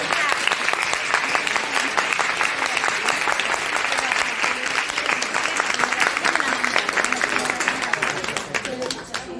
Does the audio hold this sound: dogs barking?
no